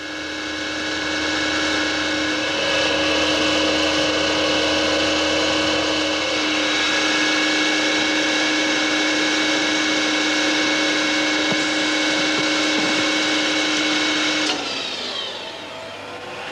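A lathe machining the inside of a bearing socket gives a steady, loud mechanical hum with tonal whine that runs evenly, then winds down near the end.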